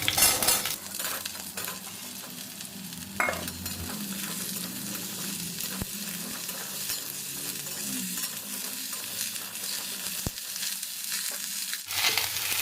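Pumpkin stems and potatoes fry in hot oil for a curry, giving a steady loud sizzle with stirring scrapes and occasional clinks of a utensil against the pan throughout.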